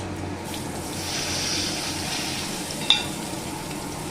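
Onion, nigella seeds and chilli frying in oil while being stirred for pomfret jhal. A broad steady sizzle runs close throughout, with a single sharp clink near the end.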